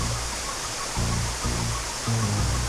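Steady broadband roar of rushing water from a summer waterfall along Brockville's urban rail trail, constant and fairly loud, with no voices.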